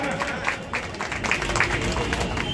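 A crowd at a Trinamool Congress party gathering applauds in a short, dense patter of clapping, moderately loud, with voices mixed in.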